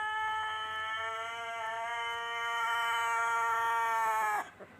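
A rooster gives one long, drawn-out crow, loud and close, ending abruptly with a brief rustle.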